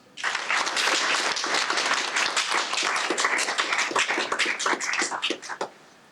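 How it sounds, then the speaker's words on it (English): Sustained applause from a large audience for high school All-State Band and Choir members, steady clapping for about five seconds before trailing off. "One more round of applause for our All-State Band and Choir members"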